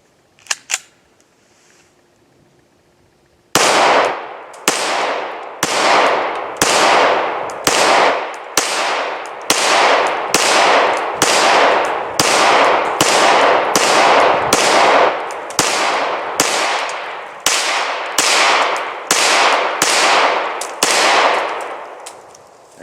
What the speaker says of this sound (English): So I'm going to shoot at that steel right now